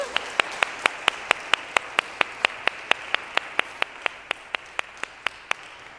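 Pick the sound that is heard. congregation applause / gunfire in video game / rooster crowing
congregation applause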